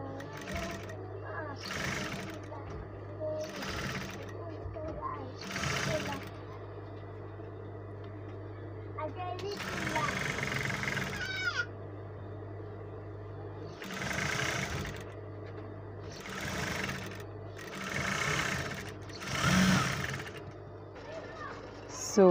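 A sewing machine stitches a padded princess dart bustier in repeated bursts of rapid mechanical whirring, each run a few seconds long with pauses between, close by, while a person talks over a low steady hum.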